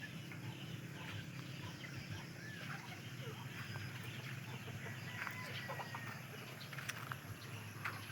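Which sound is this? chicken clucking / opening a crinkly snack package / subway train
chicken clucking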